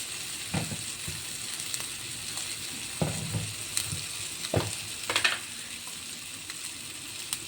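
Sliced onions sautéing in a pan with turmeric and spices for masala egg, a steady close sizzle broken by several scraping stirs of a spoon against the pan.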